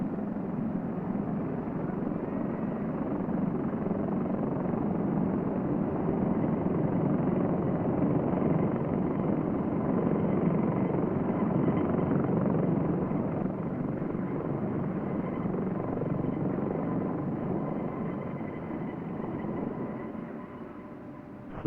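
A helicopter carrying people to and from Douala drones steadily throughout, a continuous low rotor rumble that stays loud and even before easing slightly at the end.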